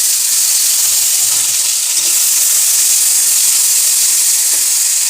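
Tomatoes going into a hot pan of fried onions, giving a loud, steady hiss and sizzle that fills the whole stretch, close by, with no voices.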